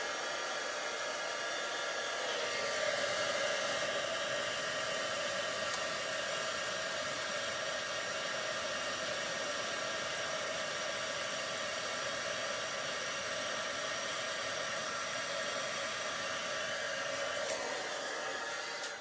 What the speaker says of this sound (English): Make sure you have your embossing powder out of the way before you bring in your heat tool.